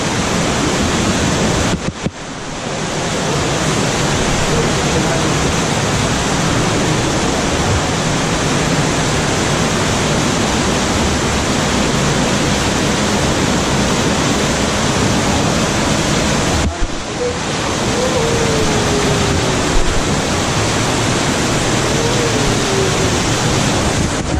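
Strong current of flowing water rushing near a cave, a loud, steady broadband roar with wind buffeting the microphone, briefly cut off twice before resuming.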